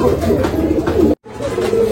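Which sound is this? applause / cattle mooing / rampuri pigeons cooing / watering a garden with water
rampuri pigeons cooing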